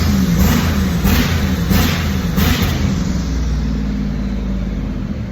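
A turbocharged Ram 5.9 engine with a single GT3582 turbo revs hard against a 2-step launch limiter, out of gear, giving a loud, continuous roar with rapid pulsing for several seconds, heard up close.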